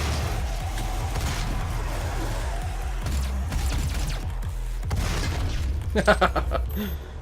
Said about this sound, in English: Oh god, that was an explosion.